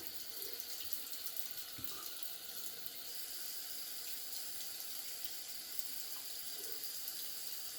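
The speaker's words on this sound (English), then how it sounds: "I'm going to switch the sink to cold. So let that run cold while I'm rinsing off with the warm." A bathroom sink faucet runs steadily at close range, an even hiss of flowing water that continues unbroken throughout, with no voices.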